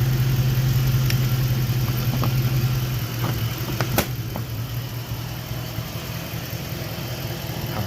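A car engine idles while it warms up after a cold start, a steady close hum with faint clicks and taps around it. The idle eases slightly partway through, and no one speaks.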